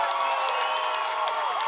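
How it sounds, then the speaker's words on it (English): Football fans at a high school game in Waverly cheer and clap for their home defense, a dense, distant crowd roar with applause holding steady throughout. "the fans applaud the effort of their defense here in Waverly"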